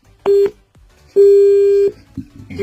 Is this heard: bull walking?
no